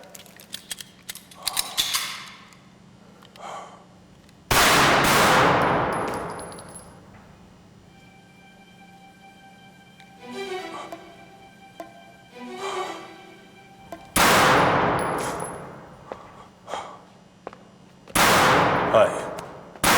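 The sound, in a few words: guns firing on a firing line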